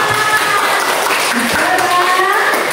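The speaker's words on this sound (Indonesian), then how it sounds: "tepuk tangan." Steady applause from a classroom group fills the whole moment, with faint voices mixed underneath.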